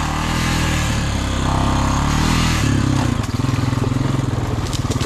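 Engine of a Honda Rancher 350 four-wheeler mudding through floodwater after a hurricane, a steady loud drone that swells, then breaks into a rapid pulsing throb as it churns along.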